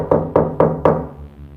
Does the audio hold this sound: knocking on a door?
yes